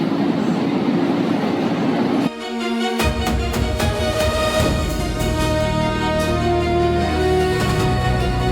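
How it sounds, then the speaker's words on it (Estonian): A train rolls past on rails, loud and close, with a steady rumble, repeated clacks from the wheels and bright metallic squeals, running the whole way with no talk. "Rongiliiklus tundub toimivat."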